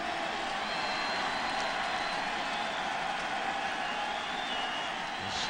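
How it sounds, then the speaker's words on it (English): A baseball crowd at Busch Stadium roars steadily in cheering and applause. The sound is a continuous, fairly distant wash of voices with no single shout standing out. "This crowd comes alive here at Busch Stadium."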